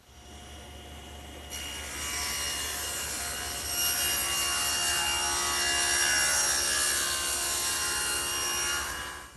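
A wooden backer block, bevelled at 40 degrees to fit a crown molding, is cut with a steady, loud machine saw that runs alone and unbroken for most of the stretch after a brief quieter start.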